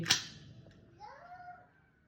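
Tokyo Marui Mk18 airsoft rifle firing a single semi-auto shot, one sharp snap at the start with a brief faint rattle after, followed by a fading tonal ring.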